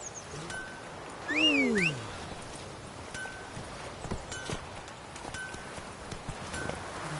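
Hooves clop along at a steady gallop as a horse runs in The Witcher 3 during rain, with a brief rising-and-falling tonal cry near the start and soft rhythmic thuds throughout.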